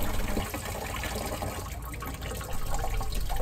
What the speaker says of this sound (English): As the water spews out everywhere but my bucket, it starts off semi-normal with a little bit of discoloration in the water